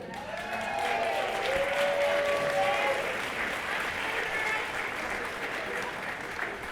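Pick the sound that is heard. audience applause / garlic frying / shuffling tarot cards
audience applause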